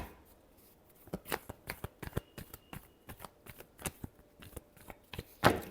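A deck of tarot cards is given a final shuffle, quick crisp riffles and slaps repeating in an uneven rhythm, close and fairly quiet, ending in a louder snap.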